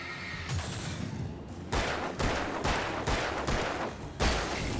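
Gunfire in the Alan Wake video game rings out as a rapid series of sharp, loud shots, about half a dozen in quick succession against a noisy background.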